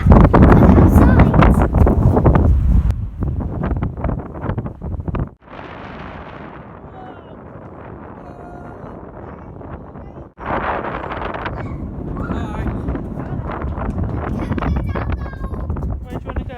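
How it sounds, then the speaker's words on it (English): Strong wind at the beach in Weston-super-Mare, UK, roars and buffets the microphone loudly and almost continuously, easing briefly midway before surging back, with voices faintly present underneath. "I don't think you can hear me because it's so windy"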